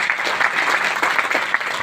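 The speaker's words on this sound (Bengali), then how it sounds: "একবার আপনাদের সকলের জন্য একবার জোরদার হাততালি হয়ে যাক" Applause from a seated audience at an event, a steady dense clatter of many hands clapping that holds at an even level throughout without speech.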